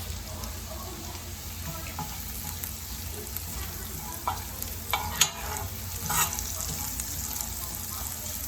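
Ginger and garlic frying in ghee in a pan, a steady soft sizzle with a few louder stirring clinks and scrapes near the middle, heard close with no talking.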